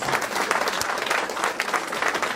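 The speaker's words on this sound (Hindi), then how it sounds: "और जो हमारे थर्ड लेवल अचीवर्स बैठे हैं, कल्याण दास जी और देवांजन सर, इनके लिए भी जबरदस्त क्लैपिंग" Audience at a business meeting in Bolpur, West Bengal, applauds third-level achievers with steady, dense clapping from many hands, moderately loud and continuous with no talk.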